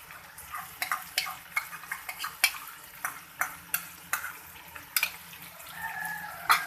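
A utensil stirs yogurt into chicken karahi in a pan, giving soft irregular scraping and clacking strokes over a faint sizzle, close and fairly quiet with no talk.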